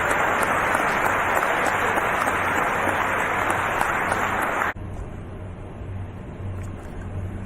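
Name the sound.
audience applause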